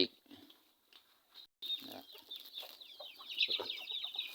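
Chickens cluck and chatter at morning feeding time in Thailand, a busy overlapping flock close by, with a brief dropout and a person's voice faintly under the birds.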